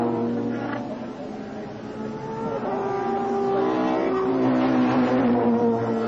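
Touring cars racing at Donington Park in 1994, several engines droning and shifting pitch together as they work through the corners, a continuous loud mechanical roar with no one speaking.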